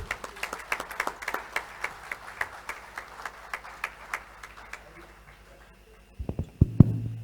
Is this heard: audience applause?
yes